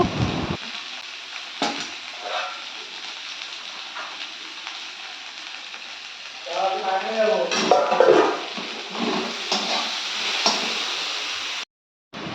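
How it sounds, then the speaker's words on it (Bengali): A spiced vegetable curry is stirred in a pan, soft sizzling frying running throughout with a spell of scraping, clattering stirring in the middle, and a brief drop to silence near the end. "এবার সবগুলোকে একসাথে দিয়ে আমি একটু হালকা করে নাড়িয়ে নেব"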